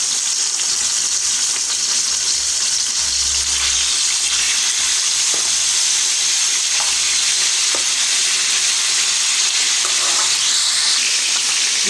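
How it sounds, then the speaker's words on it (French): Beef pieces browning in hot oil for a peanut beef stew, a loud, dense and continuous sizzle with a few brief clinks and scrapes partway through. "je vais chauffer de l'huile et dorer nos morceaux de viande pour leur donner une bonne couleur"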